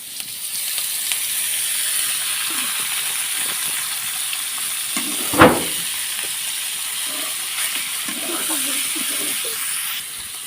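Beef sizzles and hisses steadily in hot oil in a village kitchen, with ginger in the pan. The frying stays constant throughout, and a brief clink of a utensil is heard near the middle.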